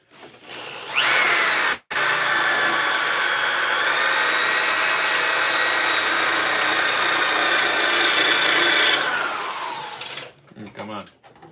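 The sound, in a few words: drill drilling a hole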